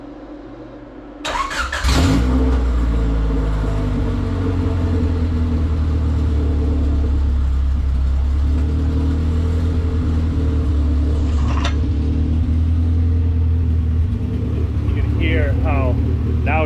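A Honda Civic EG hatchback on its stock exhaust cranks and starts after a quiet moment. It then settles into a steady, loud idle rumble close by, with a few brief clanks and some faint voices toward the end.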